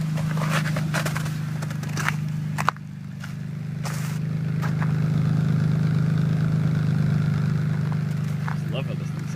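A BMW 323i Touring engine idles steadily after a cold start, giving a constant low, even hum with a brief clunk early on. Some talk and movement can be heard over the running engine.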